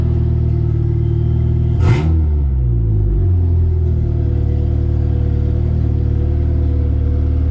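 A K24 engine swapped into a 1983 Volvo 240 idles on its first start, a loud, steady, slightly uneven rumble with one brief rev swelling and falling away near the beginning.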